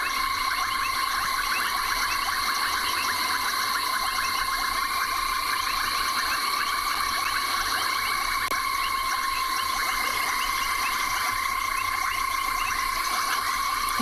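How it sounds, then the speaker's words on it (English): A dense nighttime frog chorus fills the South African bush with loud, continuous trilling and pulsing calls layered in several steady bands, with nothing else audible. "where you literally can't hear anything other than frogs"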